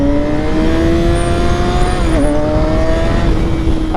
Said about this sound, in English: like this car braking